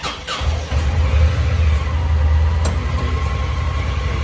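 A 2016 Honda Pioneer side-by-side idles steadily close by, its low engine rumble constant and fairly loud throughout, with a brief clunk near the start.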